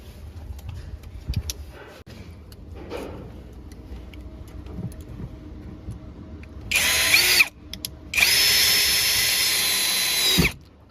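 A power drill drives screws into a base cabinet hinge during installation: two loud, close whirring bursts, a short one and then a longer sustained run, following quieter handling knocks.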